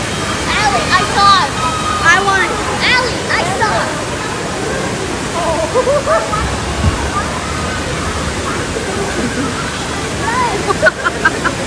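Rushing water of a water slide, a loud continuous splash and roar with sloshing surges throughout, while voices talk and shout over it.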